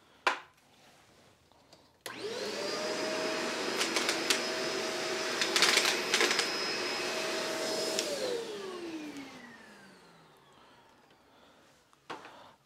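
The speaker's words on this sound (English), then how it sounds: "let's see how they do sucking up some coins." A vacuum cleaner starts up and runs steadily for about six seconds, picking up loose coins with scattered rattling clinks through the suction roar, then winds down with a falling whine to near silence.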